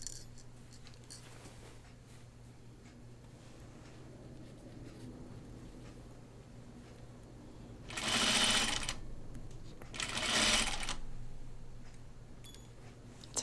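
A sewing machine stitches a dress in two short, loud bursts of whirring, separated by a pause, over a quiet room hum.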